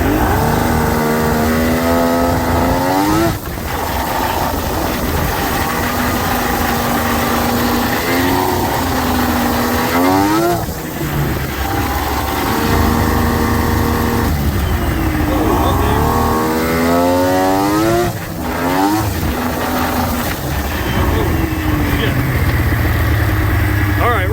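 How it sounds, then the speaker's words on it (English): A Polaris Indy 680 snowmobile engine runs loud and close, idling with several revving swells that rise and fall, while a voice talks over it. "check out our idle. See, it starts right up. Good idle."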